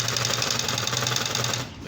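An electric zigzag and buttonhole sewing machine runs at a quick steady clatter, close and even, its rapid stitching rhythm continuing before stopping briefly at the end.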